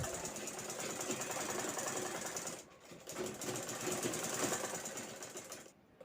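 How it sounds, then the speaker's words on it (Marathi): Sewing machine topstitching along a zipper on a bag made from an old gown, a fast continuous rattling needle drive that pauses briefly twice, close and loud. "या झेपला इथे मी दाबटीप घेते पुन्हा"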